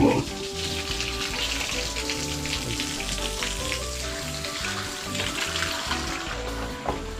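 Water poured to bathe a child outdoors in a rural province setting, a steady splashing gush running continuously with some faint background noise.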